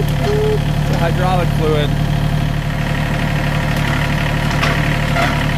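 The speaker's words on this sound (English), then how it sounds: "if we run the tractor, real quick, let's turn it on. Turn on the hydraulic pump and watch." A tractor engine idles loudly and close with its hydraulic pump switched on, a steady low drone throughout while someone talks over it.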